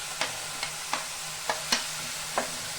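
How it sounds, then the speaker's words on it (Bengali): Onion and garlic paste frying in a pan with spices, giving a steady soft sizzle punctuated by six light, evenly spaced taps or stirs of a utensil, with no voices. "পেঁয়াজ আর রসুনটা আমি একসাথে একটু ভালো করে ভেজে নেব।"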